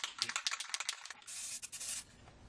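An aerosol can of spray paint hisses in bursts as a coat is misted on, starting with quick short puffs and then one steadier spray lasting about a second, close and fairly soft.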